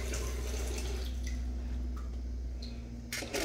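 Water runs from an outdoor faucet in a backyard as a steady, close hiss with faint drips and splashes, ending with a brief clatter.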